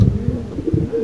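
Pigeons on a rooftop coo in low, rolling, repeated calls close at hand, steady and clear with little else around.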